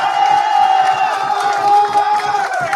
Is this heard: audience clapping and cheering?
yes